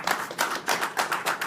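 A small group at a BNI business meeting claps in a brief, rhythmic round, with soft bursts landing about three times a second, close and moderately loud.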